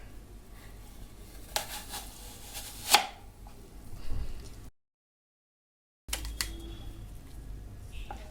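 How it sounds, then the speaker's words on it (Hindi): A knife cuts through an apple on a board, with a few sharp chopping knocks and crisp slicing sounds, a brief silent gap, then more close cutting, no talk. "पहले एप्पल को काट लें"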